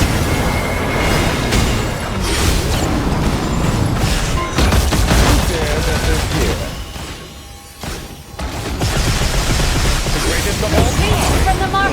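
Cannons firing in a strategy video game: loud, dense booms and crashes layered over battle noise and game music, with a brief lull before the barrage resumes, while a player talks over it.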